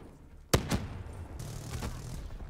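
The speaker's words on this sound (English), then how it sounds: "Where the fuck did he get a minigun from?" Gunfire in Call of Duty: Black Ops 3 team deathmatch, a loud sharp burst up close followed by a second report and a rumbling, rattling tail of more distant fire, with no talk.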